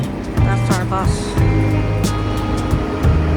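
A bus at a Toronto-area terminal on the way to Niagara Falls idles nearby with a low steady engine hum, under clattering movement and people talking in a queue.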